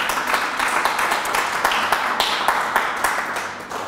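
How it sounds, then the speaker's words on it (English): A church congregation gives a loud round of applause at the close of a service, dense continuous clapping with sharper claps standing out, heard up close without talk. "give God a round of applause."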